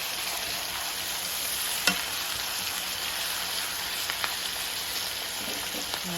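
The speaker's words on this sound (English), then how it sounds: "we're just going to let our pork steak cook for about 20 minutes" Pork shoulder steak frying in butter in a pan, a continuous bright sizzle with a few sharp pops and spatters, steady and close with no talking.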